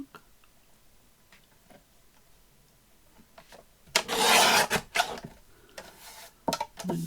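Paper being trimmed for a pocket page in a floral grunge concertina journal, heard as a loud burst of scraping, rasping cuts after quiet handling, followed by a few shorter cutting strokes.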